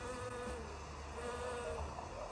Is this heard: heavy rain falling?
no